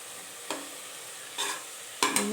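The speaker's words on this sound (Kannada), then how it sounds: "ಮಸಾಲೆ ಕೂಡ ಒಂದು 5 ಮಿನಿಟ್ಸ್ ಮೀಡಿಯಮ್ ಫ್ಲೇಮಲ್ಲಿ ನೀಟಾಗಿ ಫ್ರೈ ಮಾಡ್ಕೊಳ್ಳಿ" Masala for mushroom biryani frying in a pan on medium flame, a low steady sizzle with three distinct scraping stirs of a spoon, close and fairly quiet, with no voices.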